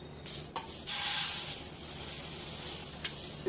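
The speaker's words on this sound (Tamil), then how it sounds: "இப்போ ஸ்டவ் ஆஃப் பண்ணிவிட்டு நம்ம ஒரு பிளேட்டில் கொட்டி ஆற வச்சிடலாம்." Roasted sesame seeds poured from a hot pan onto a plate make a soft, hissing patter with a few sharper rattling bursts near the start, then a steady faint rustle with no talking.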